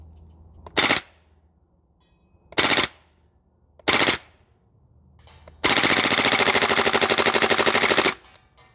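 A Maruyama SCP-9 PDW gas blowback airsoft SMG firing at a 45 metre target on an outdoor range: three short, sharp bursts spaced apart, then one long sustained full-auto string, loud and close.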